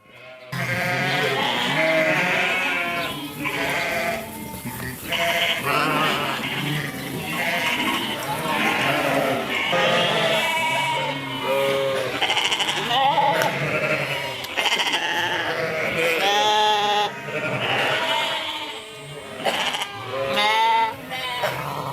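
A lamb with a splinted broken right front leg bleats loudly and close by on a farm, calling again and again in quick succession throughout.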